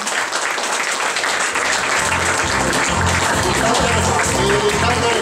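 Guests at an 80th birthday jubilee applaud as the hosts are led to the festive table, with sustained crowd clapping and a rhythmic beat of music underneath.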